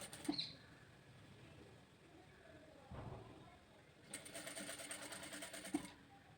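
A sewing machine stitching piping around a blouse neckline, a faint burst of rapid mechanical whirring and clatter near the end after quieter rustling and handling of fabric.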